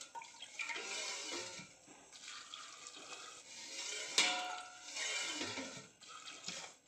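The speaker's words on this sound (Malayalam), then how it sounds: "ആവശ്യത്തിന് വെള്ളം ഒഴിച്ചു." Water is poured into a pot of curry made with big beans and pumpkin, a soft gurgling splash that rises and falls in waves, with one sharp knock partway through.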